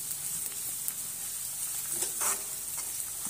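Ginger-garlic paste made from garlic cloves and fresh ginger sautés in a pan with a steady, even sizzle and a few soft stirring touches, and no one talks.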